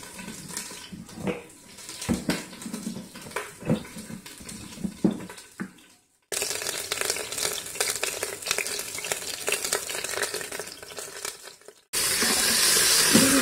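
Beef bones browning in a pot for bone broth, a steady sizzle and crackle with some stirring scrapes early on, then a continuous loud frying hiss in later stretches.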